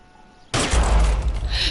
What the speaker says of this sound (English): Ich hab bis daneben geschossen, neben der Geisel